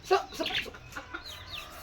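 Chickens cluck and chatter nearby in short, uneven bursts, moderately loud against a quiet background.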